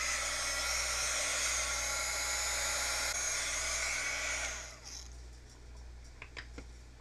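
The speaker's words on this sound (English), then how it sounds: "No picture is complete from my shop without the pink heat gun from my wife's craft kit." A pink heat gun from a craft kit blows with a steady loud rushing whir in a workshop, then shuts off and winds down, leaving faint clicks and handling noises.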